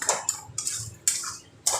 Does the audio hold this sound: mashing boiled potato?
yes